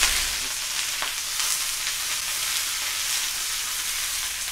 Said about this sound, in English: I usually wait until it stops sizzling